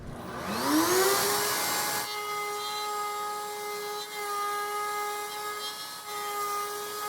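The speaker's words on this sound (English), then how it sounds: "line it up with the router bit, and then you can just rotate it around to cut the circle" A router on a router table spins up with a rising whine, then holds a steady high-pitched tonal drone as it cuts a wooden circle rotated on a jig, close and continuous.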